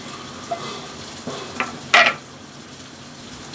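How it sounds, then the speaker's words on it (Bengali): Pumpkin pieces frying in a pan give a faint, low hiss, broken by a few sharp utensil clinks and one louder scrape near the middle. "এই যে কুমড়ো নিয়ে এসছে কুমড়ো ভাজবো"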